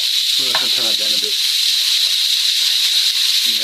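Minced meat sizzles in a frying pan on a high heat, a steady bright hiss running throughout the clip, with a voice talking briefly near the start and again at the end.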